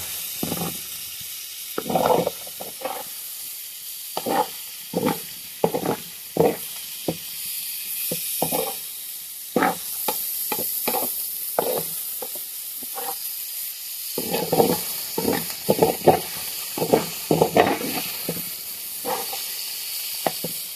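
Prawns sizzle and hiss on a hot flat pan, the crackling rising in repeated bursts over a steady background hiss, heard close.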